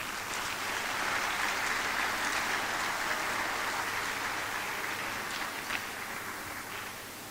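Steady, even applause from an assembly audience welcomes a student president to the stage at a youth leadership event, a soft continuous wash of many hands at moderate distance.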